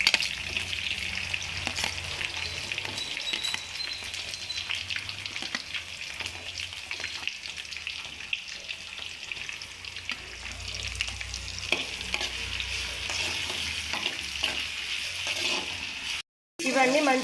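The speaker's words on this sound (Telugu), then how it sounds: "కరివేపాకు వేసుకోవాలి. పచ్చిమిరపకాయలు వేసుకోవాలి ఫస్ట్." Curry leaves and green chillies sizzle and crackle steadily in hot oil in a pan for a bitter gourd fry, with occasional stirring scrapes throughout and a brief cut near the end.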